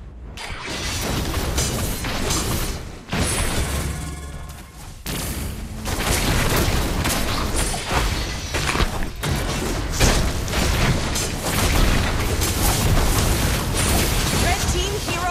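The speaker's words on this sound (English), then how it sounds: "Red team turret has been destroyed." Turret destruction in a team-based video game, heard as a dense, continuous wash of loud explosions and gunfire-like bursts with booming low end, under announcer voice lines.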